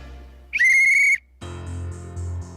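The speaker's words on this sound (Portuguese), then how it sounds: "como se fosse um barulho de um apito" A high, piercing whistle tone lasting about half a second, followed by a lower, pulsing electronic-sounding tone repeating in short bursts, loud and close with no speech.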